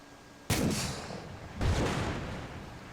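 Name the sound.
RPG rocket hitting BTR armored vehicle in video game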